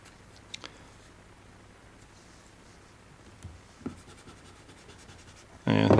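Pastel and charcoal scratch faintly across paper while a dancer is drawn, with soft strokes and a few small taps over quiet room noise, ending in a louder burst.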